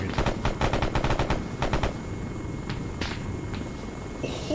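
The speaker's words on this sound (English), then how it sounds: "We're taking M2 fire." Rapid bursts of heavy M2 machine gun fire in ArmA 3, a fast thudding stream of rounds followed by a few scattered single shots, fairly loud against a dense battlefield background.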